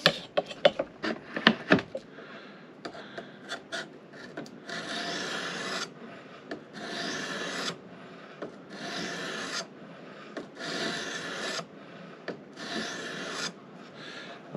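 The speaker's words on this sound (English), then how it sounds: "You can drop down to your next stone, start refining your edge" A knife blade strokes back and forth across a sharpening stone while the edge is refined, some sharp taps first, then steady rhythmic rasping passes, close and clear, with no talking.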